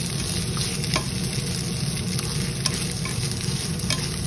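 Fried rice with ham stirred in a pan, a loud, steady sizzle with scraping stirs and light clicks of the spatula, close up, with no talking.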